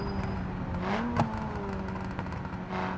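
A Mitsubishi Lancer in the BeamNG.Drive racing game downshifts, its engine note droning and shifting pitch with brief revving blips, steady and moderately loud with no talking.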